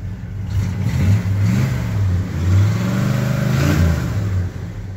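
A 1978 GMC C15 pickup with a rebuilt engine and a mild cam runs on a cold start: a close, steady low rumble with slight rising and falling swells in revs, no voices.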